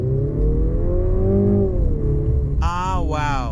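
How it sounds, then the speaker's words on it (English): Engine of a Mercedes C 200 accelerating in Sport Plus mode, a steady rising drone that climbs in pitch, with a brief higher whine near the end. "you can really hear the engine."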